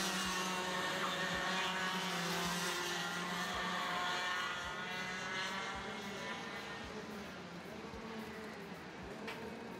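X30 junior racing karts circulate slowly around a track at Le Mans, a steady buzzing engine drone from several karts held at constant low revs, with an announcer talking over it.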